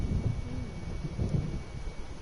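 Low rumbling thunder of an approaching storm in the video game Alan Wake Remastered, a continuous distant roll with a few swelling peaks and no other sound.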